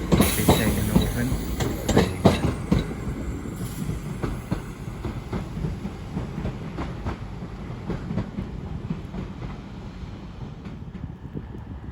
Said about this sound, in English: a terminating northern service from Manchester Piccadilly 323223 leads